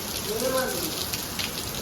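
Steady, dense late-monsoon rain hisses evenly throughout, with a faint voice briefly audible beneath it.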